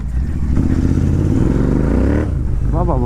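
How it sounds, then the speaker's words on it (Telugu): A Royal Enfield GT 650 motorcycle pulls away as the clutch is released after clutch plate repair work, its engine rising for about two seconds then dropping off, with someone talking briefly at the end. "క్లచ్ వదలంగానే వెళ్ళిపోతుంది బండి."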